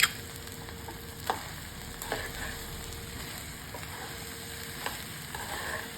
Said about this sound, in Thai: แล้วก็ ผัดให้เขาพอเข้ากันนะ